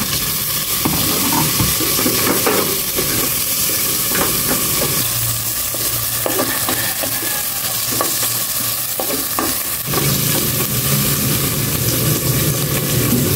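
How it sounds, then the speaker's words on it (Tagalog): Tomato and onion frying together in a pan, a loud, continuous close sizzle with repeated scraping and stirring clatter, and the frying swells as more goes in. "Ito namang sibuyas. Sabay ko na sa kamatis."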